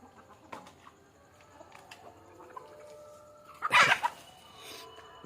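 A single loud, harsh cluck from a chicken bursts out briefly amid quieter farmyard background noise.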